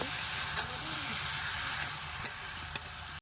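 Vegetable curry cooking down in a pan with salt, turmeric and chili powder gives a steady, close sizzling hiss, broken by a few sharp clicks and scrapes of stirring.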